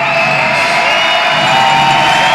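A basketball arena crowd in Saint John, New Brunswick roars and cheers loudly and continuously, with whoops rising in a dense, sustained wall of noise.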